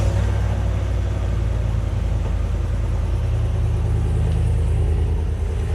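Chevrolet 6.2 V8 engine running just after startup, a steady, fairly quiet low rumble with even idle throughout, no voices present.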